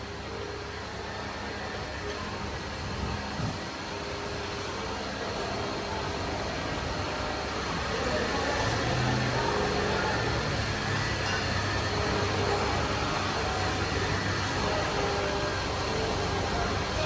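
An Audi RS car runs during a noise check at a workshop, producing a steady, broad engine drone and road-like roar that grows somewhat louder partway through and continues without talk.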